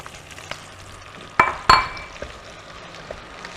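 Onions and mushrooms frying in a pan under a soft sizzle, broken by two sharp clanks of a utensil against the pan and a few lighter taps of stirring.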